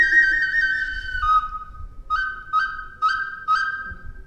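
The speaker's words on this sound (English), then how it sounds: "You hear the bird singing." Bird calling nearby in a quiet outdoor morning setting, a long wavering whistled note followed by four short, evenly spaced whistled chirps.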